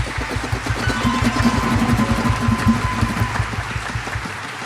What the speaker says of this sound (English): So give all of the All-Staters a round of applause.